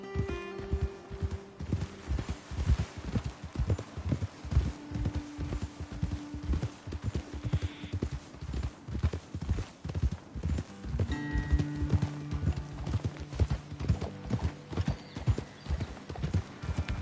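Horse hooves clip-clop in a steady walking rhythm, close and clear, with occasional snorts and faint background music, in the video game Red Dead Redemption 2.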